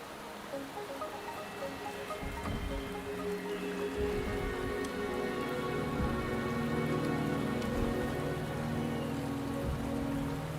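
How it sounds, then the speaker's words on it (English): Steady rain falls across an outdoor scene in the video game Wuthering Waves, a dense, even patter on surfaces with scattered heavier drops, continuous and fairly close throughout with no talking. "The rain is subsiding, and the sky will soon clear."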